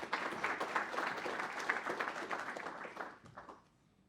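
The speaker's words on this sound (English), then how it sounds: "Round of applause for Matthew Davis." Audience applause fills a university startup pitch event as a team founder is welcomed to the stage, a steady crowd of clapping hands that holds for about three seconds before tapering off quickly.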